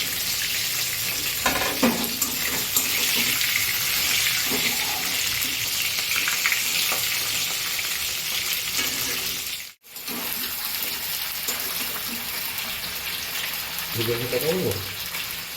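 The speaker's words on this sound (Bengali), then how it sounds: "খুব ভালোভাবে মাছের মাথাগুলোকে ভেজে নেওয়া হচ্ছে" Fish heads fry in a wok with a strong, continuous sizzle, broken by scraping and stirring knocks. The sizzle drops out briefly near the ten-second mark, and low sounds like faint talking show up toward the end.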